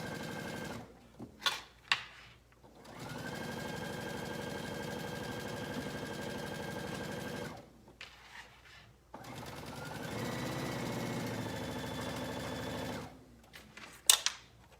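A sewing machine stitches slowly over a bulky shirt front placket with several folded layers, running in steady sustained bursts separated by brief pauses and small handling clicks.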